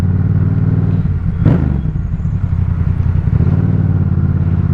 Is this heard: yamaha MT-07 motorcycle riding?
yes